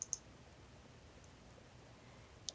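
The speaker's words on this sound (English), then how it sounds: "what I've been doing is right-clicking and opening it up in a new tab" A few quiet, crisp clicks of a computer mouse right-click while opening a coloring-page PDF in a new tab. There is one pair at the start and another pair at the end, with a low hum in between.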